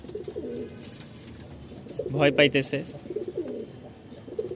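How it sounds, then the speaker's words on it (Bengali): A kaka pigeon, kept among Rajshahi Giribaz pigeons, gives a pair of low throaty coos midway, fairly close, with someone talking over and around it. "আমাদের এই ককা কবুতরটার একটু ডাক শুনি।"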